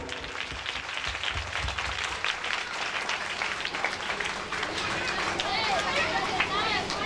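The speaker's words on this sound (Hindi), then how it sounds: "आप लोग इस विद्यालय के सारे टीचर्स के लिए, स्टूडेंट्स के लिए, अभी तक के परफॉर्मर के लिए जोरदार ताली बजाएं" An audience at a school program at Oriental High School Bharkatta applauds teachers, students and performers. Sustained clapping runs throughout, mixed with crowd chatter and children's voices.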